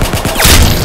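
A shotgun fires in the Roblox game Arsenal, giving one loud, sharp blast with a short booming tail that fills most of a split-second burst.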